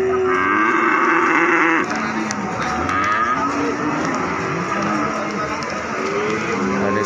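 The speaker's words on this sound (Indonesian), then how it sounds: "Nah, ada sapi-sapi bibitan." Several F1 crossbred breeding cattle moo loudly and close by at Pasar Wage livestock market in Pati, Indonesia, in heavy rain, long lowing calls overlapping one another against a steady background.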